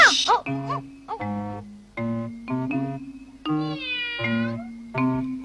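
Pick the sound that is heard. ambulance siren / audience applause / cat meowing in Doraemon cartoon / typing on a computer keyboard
cat meowing in Doraemon cartoon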